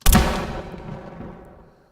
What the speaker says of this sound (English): Like a gunshot.